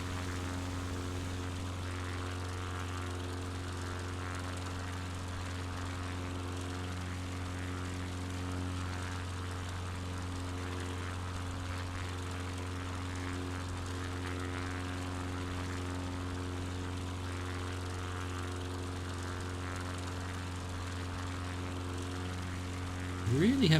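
A light propeller airplane drones steadily in flight over north Queensland near Abbott Point, its engine a constant loud hum heard from inside the cabin, unbroken for the whole stretch with a brief bump at the end.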